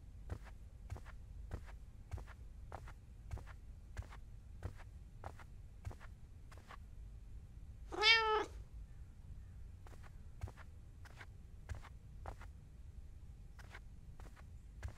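In the horror video game The Kidnap, a cat gives one clear, drawn-out meow midway, set against a steady, evenly spaced patter of soft footsteps.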